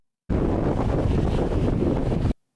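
Strong wind buffets the microphone on the beach at Pangandaran, a loud, continuous broadband roar lasting about two seconds before cutting off abruptly, with no voices.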